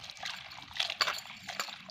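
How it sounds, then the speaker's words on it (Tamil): Raw mango pieces, freshly cut, being washed in water, giving soft trickling and splashing sounds with a few brief sharper splashes, close and fairly quiet throughout. "மாங்காயை நல்லா கழுவி எடுத்துக்கிடுவோம்."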